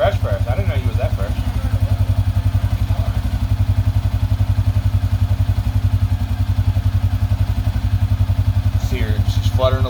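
A 2007 Suzuki King Quad ATV idles steadily close by with a rough, pulsing, slightly uneven engine note that sputters throughout, while voices talk briefly near the start and end.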